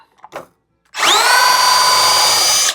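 A high-speed power tool spins off a seized nut on a 100th-anniversary Harley motorcycle, a loud, steady whine that kicks in abruptly after a few small clatters and holds at constant pitch.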